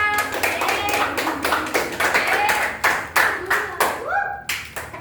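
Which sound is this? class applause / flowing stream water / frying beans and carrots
class applause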